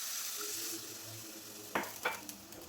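Second coconut milk is poured into fried ragi flour, a soft hissing sizzle followed by a few sharp clinks and scrapes of a spoon stirring in the pan.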